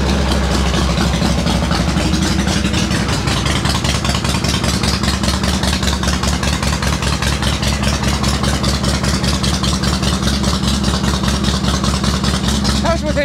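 A cold engine with an accelerator pump, flooded on start-up, now running: a loud, rough idle with a steady rapid pulsing beat that continues throughout.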